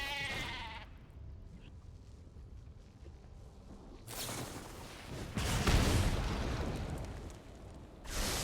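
In the Magic Arena card game, the Gatebreaker Ram card gives a short bleat, followed by heavy booming impact sounds that swell and fade, with no talking.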